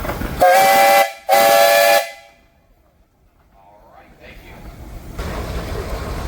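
A steam traction engine at the Sycamore Steam Show, run by the Gould family, blows two loud shrill whistle blasts in quick succession, followed by quieter hissing steam and outdoor crowd noise with people talking.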